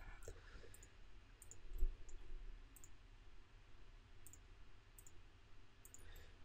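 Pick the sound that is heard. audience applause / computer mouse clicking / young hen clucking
computer mouse clicking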